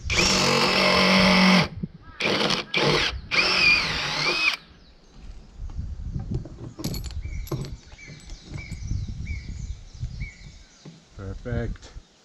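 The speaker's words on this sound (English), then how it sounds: "I can just drill a hole and fix this final bolt in" A power drill boring a hole for a bolt to fix a corner brace, loud whining bursts up front for about four seconds, then quieter handling and workshop noises with brief voices.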